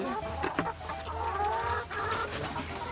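Chickens clucking on a school farm plot, repeated busy clucks and squawks from several birds nearby, with scuffing and background activity throughout.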